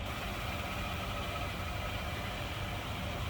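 A 1941 Cadillac Series 62 sedan convertible with its stock L-head V8 idles steadily, a dense continuous rumble with a broad hiss layered over it. The sound is close and even throughout, with no talk.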